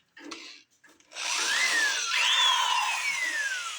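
A power drill fitted with a 3/8-inch bit bores into the wood body of a Les Paul-style guitar, starting with a few short bursts before a loud, steady whine whose pitch slides up and down as the bit cuts.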